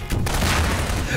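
Bomb explosions in the sandbox video game Garry's Mod, a loud, dense burst of booming blasts that fills the short clip with rumbling crackle.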